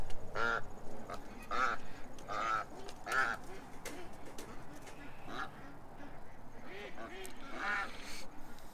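Ducks quacking repeatedly in bursts as they are let out, fairly close and moderately loud, with a faint voice murmuring underneath.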